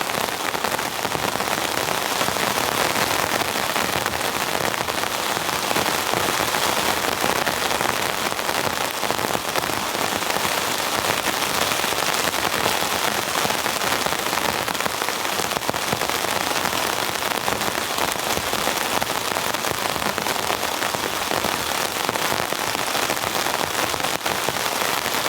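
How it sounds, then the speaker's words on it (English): Heavy rain pours steadily without a break, a dense, loud hiss of drops hitting surfaces close by. "This is like a full-blown deluge. I was expecting rain, but not this level."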